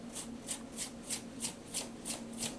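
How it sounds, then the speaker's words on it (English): A small brush sweeps cut paper particles off a Cricut Explore Air 2 cutting mat in eight even, close strokes, each a soft, bright bristly swish over a faint steady hum. "I like to use a little brush because there's always, not sure if you can see, but there's just a lot of little particles of paper where it's been cut in"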